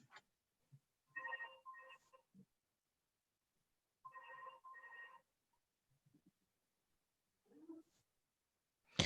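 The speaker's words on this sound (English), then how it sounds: "Oh God, my phone's going." A mobile phone rings during an online video meeting, two short bursts of repeating ringtone chirps sounding fairly clear and near, separated by quiet gaps with faint murmurs and a short rustle near the end.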